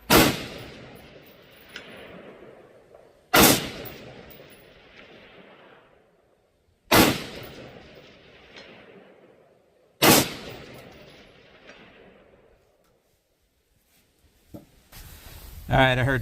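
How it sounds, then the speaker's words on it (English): Four loud rapid-fire .223 rifle shots fired at targets 400 yards away, each a sharp blast followed by a long echoing decay, spaced a few seconds apart, with quiet handling noise between them. "we got 7 out of 9 of these shots were kind of rapid fire at 400 yards"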